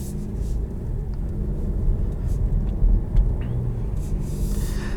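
Cabin sound from inside a 2020 Buick Encore GX on the road: a steady low engine and road rumble with faint soft knocks and no talking.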